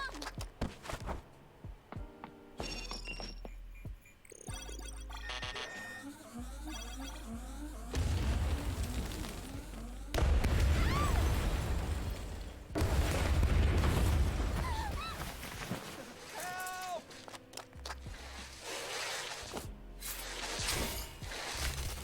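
Bomb explosions in the video game Tower of Fantasy, several deep booms rising over a busy layer of game music and effects, with loud swells around the middle of the stretch.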